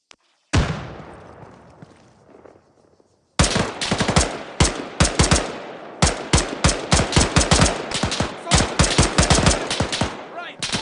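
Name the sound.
gunfire in the video game Arma 3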